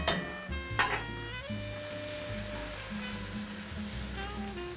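Carrots and Savoy cabbage sizzle steadily in a pot, with a couple of sharp utensil clanks at the start giving way to a continuous close frying hiss.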